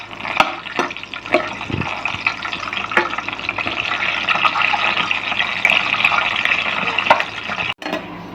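Water gushes steadily into a cooking pot in a home kitchen while eggs are being prepared, a loud continuous pour with small splashes that stops abruptly near the end.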